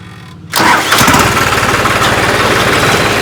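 A John Deere or New Holland farm tractor engine cranks and catches after a brief quiet moment, then settles into a loud, steady diesel rumble with a slight rev, close by and without voices.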